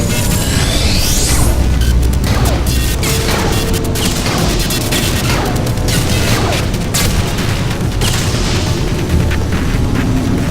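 Bomb explosions in the video game Portal 2 pile up in a loud, dense barrage of booms and crashes that runs the whole time, with sharp bursts breaking through a heavy rumbling bed.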